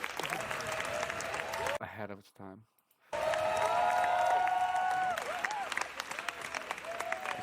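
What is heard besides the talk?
audience applause and cheering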